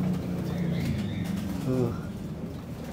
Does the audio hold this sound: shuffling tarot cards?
no